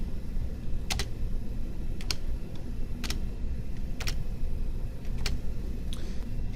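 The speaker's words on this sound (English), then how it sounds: "I can simply use my spacebar." A computer keyboard spacebar is pressed six times at roughly one-second intervals, each a crisp, close click over a steady background hum.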